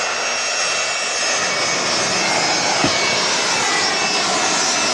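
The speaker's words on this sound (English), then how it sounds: "And here she goes, the 757." A Boeing 757 airliner takes off at Manchester Airport with a loud, steady engine roar that holds evenly throughout, with no voices.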